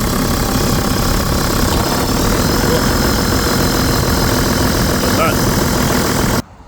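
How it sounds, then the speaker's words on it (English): Toyota Land Cruiser engine idles loud and close in a constant throbbing drone with the air-conditioning compressor running, holding steady before dropping off abruptly at the end. "And the aircon compressor is turning on and off the way it should."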